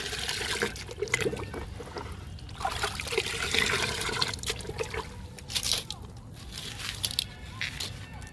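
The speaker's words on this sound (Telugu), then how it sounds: "ఇంకా వాటర్ని, లిక్విడ్ని బాగా కలుపుతాము" Water sloshing and trickling as liquid is stirred together, with irregular splashes and swirls up close throughout.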